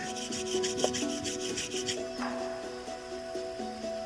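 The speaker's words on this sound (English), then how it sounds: "That's bits of this slate abrading off." The edge of a slate knife is rubbed across a fine-grained sharpening stone in steady back-and-forth strokes, a close, rhythmic gritty scraping that slows toward the end.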